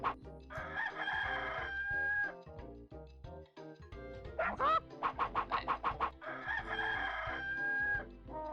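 Chickens in the 102 Dalmatians: Puppies to the Rescue video game, with a loud rooster crow, then a quick run of rhythmic clucks and a second crow over a game music backdrop, plus a brief spoken word.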